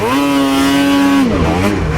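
A Kawasaki 9R motorcycle engine with a twin-pipe exhaust, naturally aspirated and about 200 horsepower, holds a loud steady high-pitched rev near the mic, then drops off and wavers as the throttle is eased.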